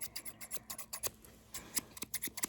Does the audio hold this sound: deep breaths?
no